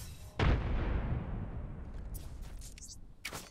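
A frag grenade exploding in a video game, a single deep booming blast with a long rumbling decay, followed by scattered game clicks and effects.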